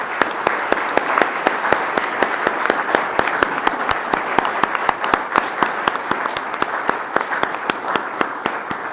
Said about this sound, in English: please join Helena and I with a huge round of applause to everyone that has participated and contributed to the plan